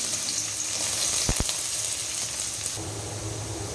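Carrot, capsicum and cabbage frying in hot oil for chicken noodles, a continuous close sizzle with a brief sharp clink midway.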